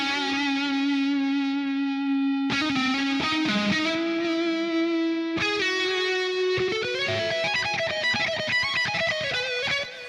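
Distorted electric guitar tone through the McRocklin Suite amp plugin, sustained notes and chords ringing out loud and continuous with a smooth, saturated character and some reverb.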